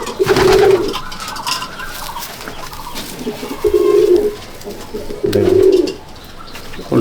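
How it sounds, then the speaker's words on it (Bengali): Phulshira pigeons in a loft cooing in repeated throaty bursts close by, with quieter cooing and fluttery bird noise from others in between. "সব একই রকম দেখতে ফুলসিরা পায়রা"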